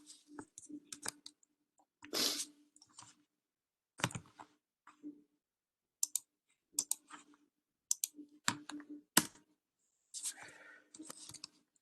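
Keyboard keys clacking in irregular bursts during a programming lecture, quiet and close, with short pauses between flurries of typing and no talking.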